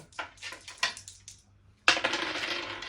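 Dice rattle and clatter onto a Ludo board during a family game, a few quick hard taps and skitters, a pause, then a sharper burst of tumbling clicks, close and fairly crisp.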